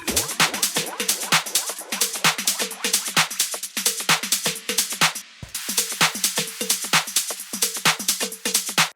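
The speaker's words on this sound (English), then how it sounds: "Drums group sounds like this." A tech house drum pattern plays alone, crisp hats and snappy percussion ticking in a busy, driving groove with a brief break midway before resuming.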